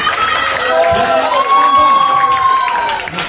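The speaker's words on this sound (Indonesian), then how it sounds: "Tepuk tangan dulu dong buat" Audience cheering and applauding at a live Ramadan event held by a hospital, a loud sustained crowd roar with children's shouts riding over it, continuous for several seconds without speech.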